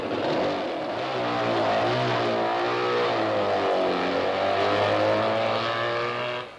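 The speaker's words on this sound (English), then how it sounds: "here goes Ted Friend on the twin-cylinder AJS, nicknamed the Porcupine" A twin-cylinder AJS Porcupine racing motorcycle at the 1950 Isle of Man TT roars past, its loud, steady engine note shifting in pitch as it goes by and fading slightly at the end.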